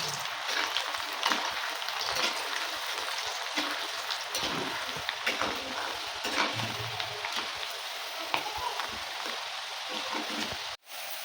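Lentils deep-fry in hot oil for dal bhaja, giving a steady, dense sizzle that sounds like rain. It stays close and even throughout, with occasional stirring ticks, and cuts off briefly just before the end.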